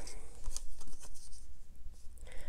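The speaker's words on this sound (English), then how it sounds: "I'm getting more cards and I'm shuffling the deck." A deck of tarot cards shuffled by hand, with soft papery riffles and slaps in short bursts at close range, fairly loud against a quiet room.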